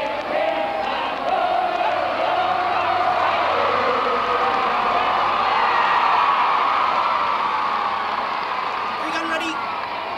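A large crowd at a royal tour event cheers and roars in a sustained, dense wall of voices that swells slightly midway, heard from within the gathering.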